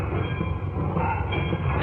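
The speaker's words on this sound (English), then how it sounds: "See that train down there?" A train rumbles through a railroad yard, a continuous loud rolling roar of wheels and cars with no break.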